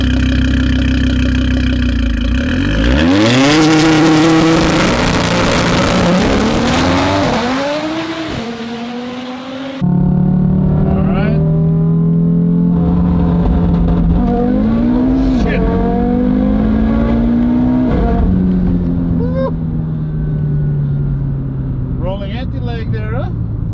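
A car engine revs up and accelerates, pitch climbing through several gear changes, with occasional tire noise; loud and close throughout.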